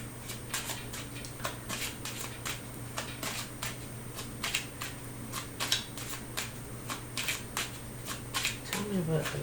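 Lenormand cards are shuffled by hand in a quiet room, producing repeated crisp riffling snaps in irregular bursts, close and clear over a steady low hum.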